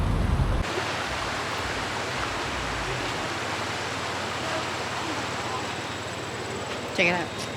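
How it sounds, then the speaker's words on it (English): Small creek in flood-damaged Hot Springs, North Carolina, rushing as a steady broadband wash of water, with a short thump at the start and a brief voice near the end. "This little creek here."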